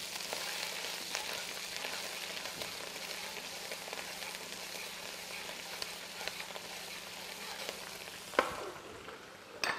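Pickled chilies stir-fried in a wok for fish-fragrant prawns, giving a steady close sizzle and hiss with occasional scraping stir strokes and a few sharper knocks near the end.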